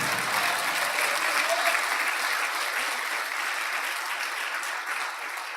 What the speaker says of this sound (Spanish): Si ese aplauso para Cristo, déselo, hermano.